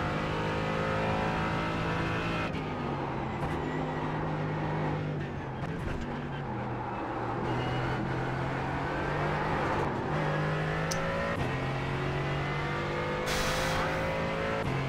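Several race cars in a racing video game battle for the lead just ahead, engines droning and revving steadily throughout with shifting pitch as they jostle, loud and continuous with no talk over them.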